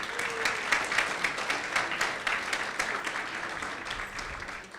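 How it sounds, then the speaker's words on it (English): An audience applauds at a community awards event, the Millbrae Lions Movers and Shakers gathering, with steady, dense clapping from a crowd that holds an even level for several seconds. "Give yourselves a round of applause for that."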